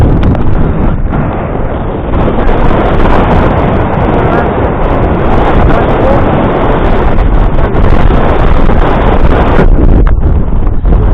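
Strong wind buffets the microphone in a constant loud roar on a hilltop in the Brecon Beacons, with rough rustling of a flapping flag, no voices.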